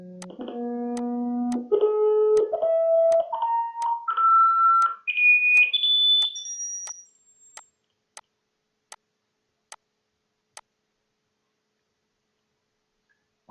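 A pure test tone climbs in clear stepped pitches, each step higher than the last, in a lesson on ultrasound physics in medicine. It rises until it fades out, followed by a few faint, sparse ticks.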